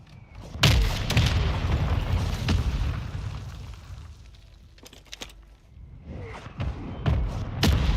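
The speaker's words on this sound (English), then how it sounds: "Friendly mortar strike on the way." Mortar strikes explode in a combat video game, with loud, close booms and bursts, rumbling tails and scattered sharp pops in between.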